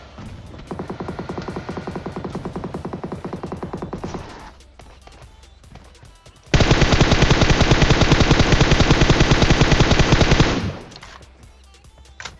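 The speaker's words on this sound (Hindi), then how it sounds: "कुछ बंदे उस पर फायर करते हैं" Sustained automatic gunfire in PUBG, played on an iPad 8th generation: two long bursts of rapid, evenly spaced shots, the second louder and denser, separated by a short lull.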